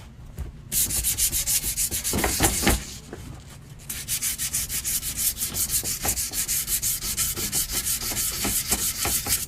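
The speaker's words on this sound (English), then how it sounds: "Still sanding the cane out of all the rough paint." Steady rhythmic sanding of rough paint off a prop cane, a gritty abrasive rubbing in repeated strokes, close up, with a brief pause partway through.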